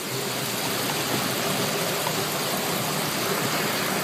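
Steady broadband wash of rain and floodwater in a backyard after Hurricane Isaac, a constant close hiss with no pauses and no speech.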